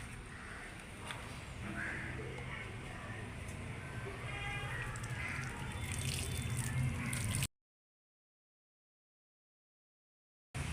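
Water pours in a steady splashing stream onto compost for several seconds, with faint background noise, then cuts to silence.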